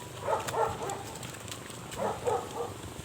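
Two pairs of muffled barks from a dog a little way off, with a pause between them, over a steady background hiss.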